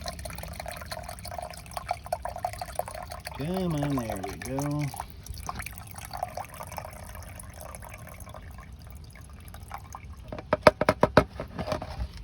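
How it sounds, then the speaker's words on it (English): Water drains from a pool chlorine tablet dispenser for a Frog Leap pool system, with faint trickling and gurgling followed by a few drips near the end. Someone speaks briefly over it. "Just draining the water out of it."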